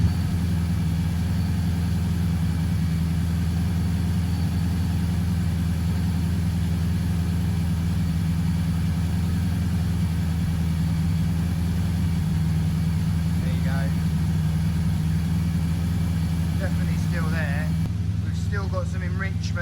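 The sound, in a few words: Mazda Miata MX5 NC with LS1 V8 engine idling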